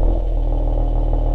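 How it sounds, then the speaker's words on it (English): The EQ Boost mild-hybrid engine in a Mercedes-Benz GLE53 catches without any cranking, settling straight into a loud, steady, low idle heard up close. "Another giveaway is how EQ Boost engines sound when they start up."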